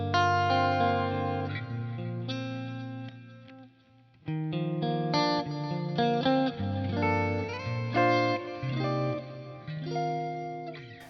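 Electric guitar through a Helix Fender 67 Bassman clean amp model, playing a chiming clean chord-and-note passage with sustained tones, brief pause near four seconds, moderately loud, no talking.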